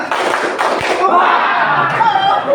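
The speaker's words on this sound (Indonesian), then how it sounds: "Tepuk tiga." A group of people claps together in a quick burst of sharp slaps at close range, followed by cheerful voices and chatter.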